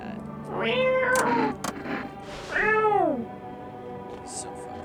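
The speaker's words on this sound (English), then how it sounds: "I also want to pick up the cat." A cat in the video game No, I'm not a Human gives two long, drawn-out meows about a second apart, close and clear against a quiet background.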